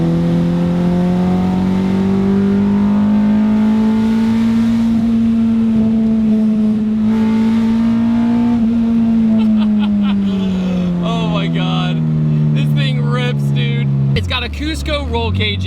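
A Honda B18C engine in a Civic revs hard and steadily climbs toward over 8,000 RPM, a loud sustained rising howl that drops away near the end, with no talking over it.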